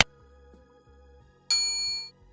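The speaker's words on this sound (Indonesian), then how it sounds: "jangan lupa tekan tombol loncengnya supaya kalian mendapatkan notifikasi setiap kali saya upload video" A single bright notification bell ding rings out clearly and decays over about half a second, preceded by faint low hum.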